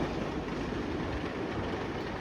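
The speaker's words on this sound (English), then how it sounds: "you can see the train going around here, doing some test cycles" A Nickelodeon Streak roller coaster train at Blackpool Pleasure Beach runs a test cycle on the track: a steady, faint rolling rumble with a soft clatter, heard alone and continuous throughout.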